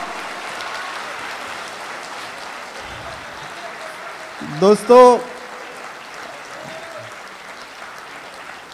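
A mushaira crowd in Bahrain applauds a poet with broad clapping that gradually thins and fades, and a voice cuts in briefly midway over the dying applause.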